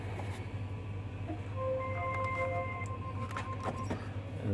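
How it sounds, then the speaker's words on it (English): A Brother DCP-J1100DW inkjet printer booting up after being plugged in, giving a soft mechanical whir with faint tonal motor whines and a few light clicks over a steady background hum. "Plug the printer in."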